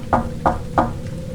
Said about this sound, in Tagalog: At habang binabasa ko yon, may marahang kumatok